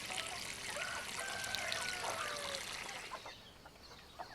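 Water pours from an opened garden swimming pool onto vegetable garden plants, a steady rushing splash with birdsong and a rooster-like call in the background, tapering off toward the end.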